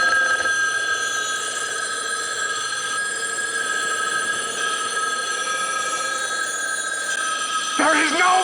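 A telephone bell rings in a continuous, insistent trill from The Omega Man, the 1971 film. It is loud and steady throughout, with a brief voice near the end.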